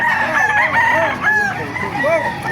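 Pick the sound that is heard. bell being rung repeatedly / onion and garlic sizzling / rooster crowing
rooster crowing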